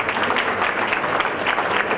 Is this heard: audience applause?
yes